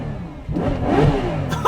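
A car with a naturally aspirated V12 engine revs up from a steady idle into a rising, close-up roar that climbs for about a second, with no talk.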